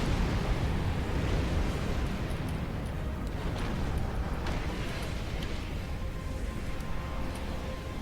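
Starship cannons firing in the space combat game Star Trek Online, a dense, continuous roar of blasts and booming bursts that stays loud throughout with no talking.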